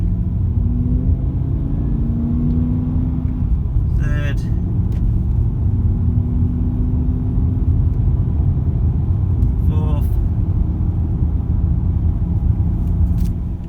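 BMW M5 with an SMG III gearbox in automatic mode pulling away in first gear, a deep steady engine rumble from inside the cabin with a brief rev rise before each shift, while someone talks over it.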